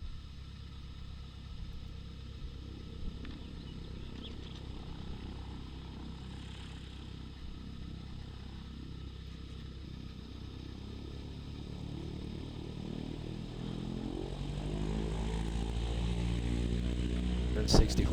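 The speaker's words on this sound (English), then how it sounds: "A 60 horse engine with a standard prop pitched to 54 inches." A 60-size model airplane engine swinging a standard propeller pitched to 54 inches runs steadily and fairly loud throughout, with a buzzing harmonic drone that rises and intensifies near the end, and a voice talks over it.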